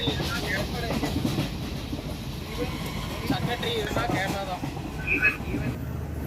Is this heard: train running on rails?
yes